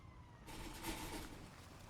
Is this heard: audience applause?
no